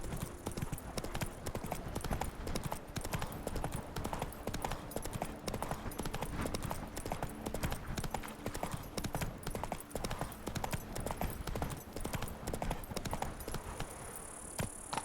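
Rapid, steady galloping hoofbeats of a horse in The Witcher video game run continuously and loudly for the whole stretch, with no talking over them.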